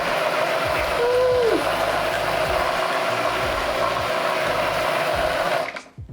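A Honda CRF E2 electric kids' motorbike doing a burnout gives off a steady, close mechanical grinding and whirring with a brief rising whine, ending in a quick fade.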